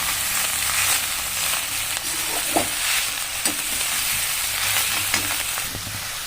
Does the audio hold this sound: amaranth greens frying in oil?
yes